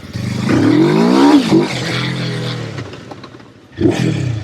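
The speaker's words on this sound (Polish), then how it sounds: "Bardzo ochoczo przyspiesza i wkręca się ten silnik na obroty." A Junak M12 Vintage 400 motorcycle engine revs hard and climbs through the gears with rising and falling pitch, loud and near, then dips before a fresh burst of throttle at the end.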